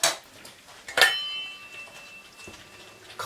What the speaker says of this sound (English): Gosh, that's a noisy pan. It's dancing away.